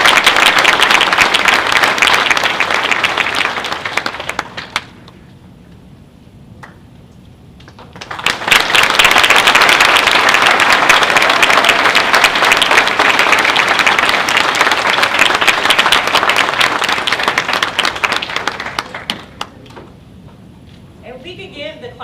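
A medical school audience claps loudly at a white coat ceremony in a dense, sustained burst. After a brief quiet gap, a second long round of applause begins and fades near the end.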